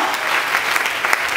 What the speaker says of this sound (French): Est-ce que vous pouvez applaudir le Seigneur Jésus?